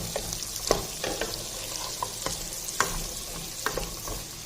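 Beans and carrot are stirred in a frying pan with a spatula, giving repeated scraping knocks over a continuous oily sizzle. It is close and fairly loud, with no voices.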